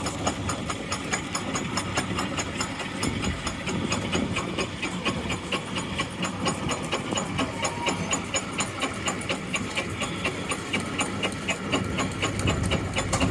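A steam engine idles nearby at an outdoor steam rally, building pressure, with a steady mechanical chugging and hissing hum throughout, a constant rhythmic texture and no talking.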